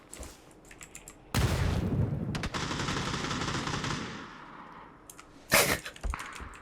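In PUBG, a loud burst of rapid automatic gunfire lasts about three seconds, followed by a few isolated sharp shots, with keyboard clatter in the background.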